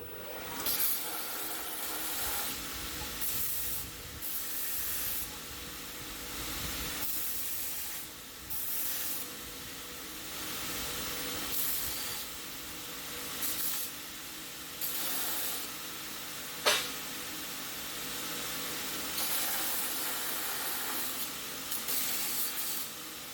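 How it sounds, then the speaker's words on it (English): A belt sander smooths a pair of metal clamp halves in a workshop with a rough, hissing abrasive rush that comes in bursts with short pauses between passes, fairly quiet. "we'll give these a tizzy up with the belt sander"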